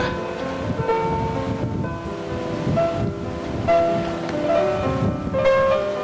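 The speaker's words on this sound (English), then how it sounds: "That's the wind." Steady wind gusts over the sea on the deck of a cruise ship, a loud constant roar with buffeting on the microphone and faint tonal hums underneath.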